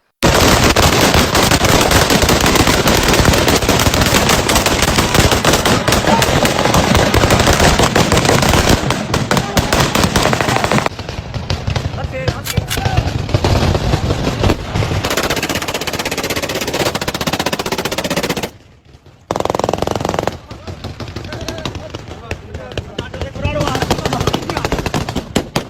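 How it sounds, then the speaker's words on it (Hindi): Aerial gunfire from a played video: long, dense bursts of rapid shots crackling continuously at high volume, then sparser bursts broken by short gaps, with a voice speaking through much of it. "कैसे उनके हामी वो खुद कैसे हवाई फायरिंग कर रहे हैं"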